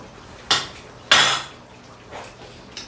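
A ladle scrapes and clinks against a pot while thick hamburger taco soup is served out, two sharp metallic knocks followed by softer scraping and a final faint clink, with no talk.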